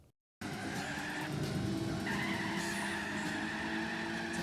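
Tyres skid and squeal under a Honda City Turbo II in the Gran Turismo 4 racing game, a continuous screech over engine drone that begins abruptly after a brief silence and holds for several seconds.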